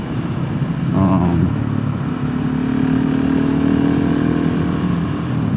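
Steady low roar of wind buffeting against a motorcycle helmet while riding, heard through earplugs, with engine drone blended underneath and no break across the stretch.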